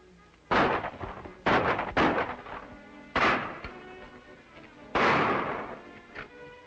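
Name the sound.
gunfire in a shootout in an old serial film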